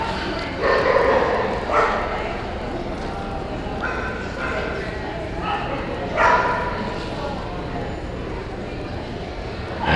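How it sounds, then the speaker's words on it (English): Puppies at a dog show sweepstakes event barking and yipping in short bursts at moderate distance, heard under an announcer's continuous speech in a large hall. "A little help from the puppies behind me."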